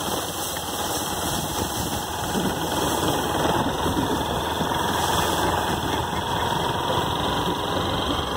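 A motorcycle idles on a cattle farm pasture, a continuous steady engine rumble with a faint knocking texture, close and unchanging for several seconds with no talking.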